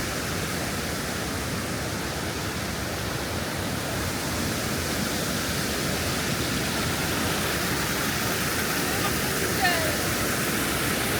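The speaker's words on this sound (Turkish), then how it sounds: "Yukarısı büyük şelale, burası küçük şelale." A small waterfall in a nature campsite area below a larger falls, its water rushing in a loud, unbroken wash that fills the whole stretch, close by and steady, with no voices clearly heard.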